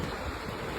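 Ocean surf and gusting wind roar around a small portable swimming pool being ridden like a boat at sea, a continuous wash of water with wind buffeting the microphone and no talking.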